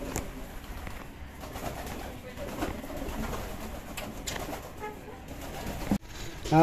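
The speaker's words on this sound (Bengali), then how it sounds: "কবুতরগুলো কিন্তু অনেক উড়াউড়ি করতেছে" Pigeons coo softly and steadily nearby, with occasional wing flutters in the background.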